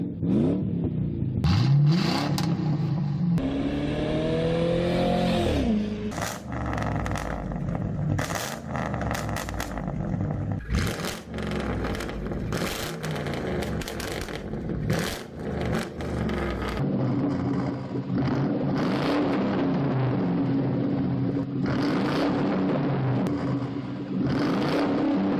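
A Ford Crown Victoria 2-valve Panther-platform V8 with a muffler-delete exhaust revs repeatedly, loud rising and falling blips close by, then settles into a raw, rumbling idle, with no voices.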